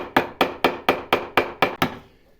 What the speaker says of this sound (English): I'm going to try and hammer on one side a bit more